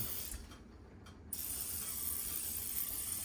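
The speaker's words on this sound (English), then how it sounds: "Got my little olive oil sprayer. Go ahead and spray the pan." A few mechanical clicks from an olive oil pump sprayer, then a steady, close hiss of fine spray onto a pan that continues to the end.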